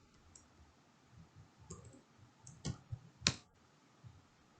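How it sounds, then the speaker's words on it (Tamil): Keystrokes on a computer keyboard while entering data into an OpenOffice Calc spreadsheet: a few sparse, sharp clicks, including two louder taps near the end, over a faint background hum. "ஓகே கொடுத்துட்டு நான் இந்த இடத்துல டைப் பண்ணுறேன்."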